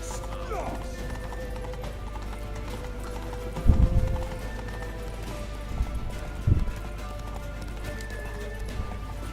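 Galloping horse hoofbeats in The Witcher 3 thud in rough bursts over a steady backdrop of game music, with louder clusters of hooves partway through.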